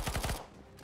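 Gunfire in the Counter-Strike video game, a quick burst of about four sharp, rapid shots followed by fading reverberation, brief and fairly faint.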